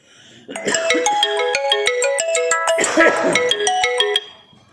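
A mobile phone ringtone plays loud and close, a bright repeating melodic tune of chiming notes running for about four seconds before cutting off.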